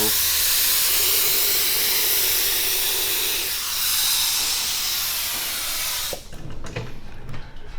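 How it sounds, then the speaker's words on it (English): A loud, steady hiss of activator spray onto hydrographic film runs for several seconds, then cuts off abruptly, leaving quieter handling noises behind. "once we spray our activator, everything should glass right out really well"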